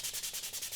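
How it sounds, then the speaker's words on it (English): Hand sanding with 320 grit sandpaper, done with the fingertips on a plastic lens surface, gives quick, rhythmic back-and-forth rasping strokes, close and soft. "really you only need to be sanding down the highest points right now"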